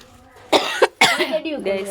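A few sharp, harsh coughs in quick succession, close by, then a person talking.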